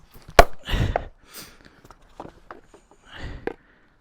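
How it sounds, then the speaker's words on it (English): A few heavy sledgehammer blows land one after another on a Surron electric dirt bike's protective guard, sharp thuds spaced irregularly with quiet pauses between them, close by and without talk. "First, we're going to do our sledgehammer test."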